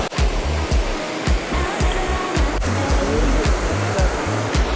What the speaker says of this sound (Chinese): 我们来到的第一个瀑布叫做乌沙溪瀑布